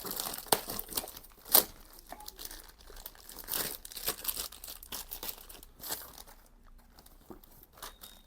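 Packaging for a Chigee AIO-6 Max motorcycle display, meant for a BMW R1300GS, crinkles and crackles close up as it is unboxed, with irregular rustles and one sharp tearing burst, and no talking.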